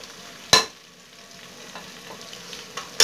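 Peeled tomatoes drop into a hot frying pan with a sharp burst of sizzle, which settles into a low crackle, and a second clatter comes at the end.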